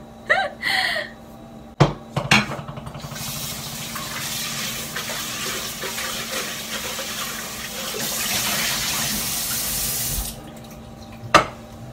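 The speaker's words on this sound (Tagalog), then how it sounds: "Ang unang gagawin ko nito, hugasan ko muna siya." Food being washed under a running kitchen tap, a steady splashing gush of water that fills most of the stretch, with clatters and knocks at the start and end.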